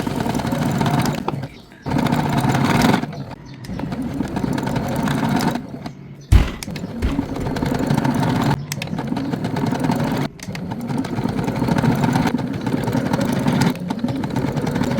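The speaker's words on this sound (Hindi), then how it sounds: "1/2 इंच के मार्जिन पे ना हम सिलाई लगाते जाएंगे" A sewing machine runs in long continuous bursts while stitching a lace border onto fabric at a half-inch margin for a kurti, with brief pauses between runs and a steady mechanical hum close by.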